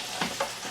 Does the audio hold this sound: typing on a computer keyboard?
no